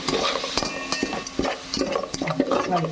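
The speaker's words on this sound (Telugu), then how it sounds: "పచ్చివాసన పోయేదాకా మనం తిప్పుకోవాలి" Onions with ginger garlic paste stirred in a sizzling pan for mushroom biryani, a spoon scraping and clacking in an irregular rhythm over a steady close frying hiss.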